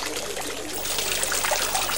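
Water trickling from a fountain spout into a stone basin that feeds a calm pool at the Alhambra in Granada, a continuous soft splashing babble heard alone.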